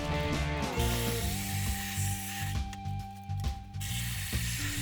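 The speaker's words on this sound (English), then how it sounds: "I was really surprised how fast you can grind the dry bread" A homemade bread crumber grinds dry bread, with a steady motor whine and a continuous rattling, clicking churn that runs loud and close for the whole stretch, with no voices.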